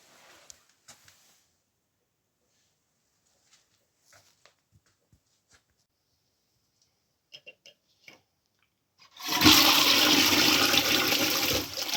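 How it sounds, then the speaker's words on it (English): A newly fitted toilet with restored water pressure flushes loudly after several seconds of near silence broken by faint clicks and taps, the rushing swirl of water filling the last few seconds. "Now my toilet actually has pressure and my kids can actually flush it on their own."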